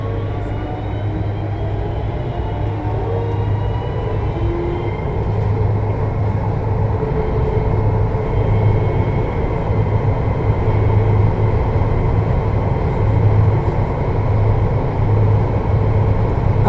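Interior of a VAL 208 NG2 automated metro train on Line B between Ramonville and Canal du Midi, with a loud, continuous rolling rumble, a steady motor hum and rising and falling electric whine sustained throughout.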